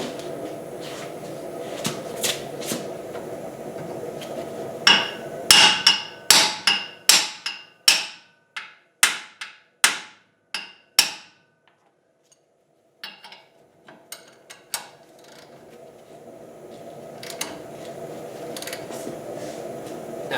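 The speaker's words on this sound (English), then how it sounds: "Need a hammer." A hammer strikes a Jeep JK ball joint in a garage, about a dozen sharp metallic blows in a rapid series, followed by a few lighter taps.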